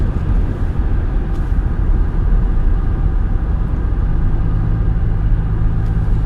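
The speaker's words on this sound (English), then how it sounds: "I'm gonna go ahead and floor it." A 2005 GM car with a newly replaced 4T65-E transmission accelerates at full throttle, a loud, steady engine roar and road rumble heard from inside the cabin, rising slightly in pitch over several seconds.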